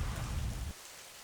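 Heavy rain pours onto a residential housing society compound, a dense, steady wash of drops that is loud for the first part and then drops sharply to a much quieter patter.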